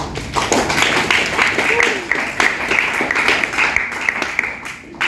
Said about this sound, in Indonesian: boleh dong kita tepuk tangan buat kita ya